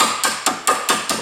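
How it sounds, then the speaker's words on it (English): Hammer blows on a steel tool driven against the left drive shaft of a Honda Civic, six sharp metallic strikes in steady rhythm, close and loud with no talking. "And now I hit it with hammer."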